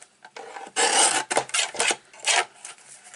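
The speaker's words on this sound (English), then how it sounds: "So I'm going to trim this piece down to 1 3/4" A piece of cardstock is trimmed with several short, close rasping slices: a long scraping stroke followed by a few quicker swipes, crisp and dry against a quiet background.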